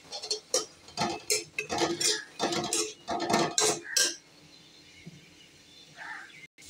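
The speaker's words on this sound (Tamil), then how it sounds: "ரொம்ப சிம்மில் வச்சுட்டு வதக்கணும்." Greens being stirred in a pan on low flame, with a run of close metallic scrapes and clinks of a spoon against the pan that stops, leaving quiet with a faint clink near the end.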